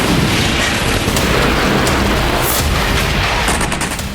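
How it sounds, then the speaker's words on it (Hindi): A loud blast from a nighttime missile attack on Crimea, heard as a dense, sustained roar of booming noise with sharp cracks scattered through it, close and harsh throughout. "यह क्रीमिया पर हमले का वीडियो है, जिसमें तेज आवाज के साथ विस्फोट हुआ।"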